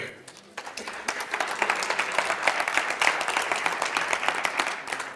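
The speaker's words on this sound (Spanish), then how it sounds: "y un aplauso, por favor." An audience at a housing conference breaks into applause after a short pause, the clapping swelling quickly into a dense, steady patter of many hands that holds to the end.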